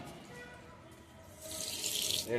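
Water runs steadily from a tap, swelling into a louder hiss of flow toward the end, amid faint background noise.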